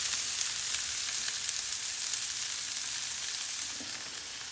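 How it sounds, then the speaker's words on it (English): Onions sizzle and fry on a Blackstone griddle, a steady close crackling hiss throughout with no talk, easing slightly toward the end. "we got some onions. We're gonna go ahead and grill up a little bit, get them browning"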